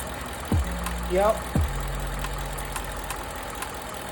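A Ford F-150 with the 5.0 engine idles with a cylinder 2 misfire, giving a steady low rumble throughout while someone speaks briefly over it.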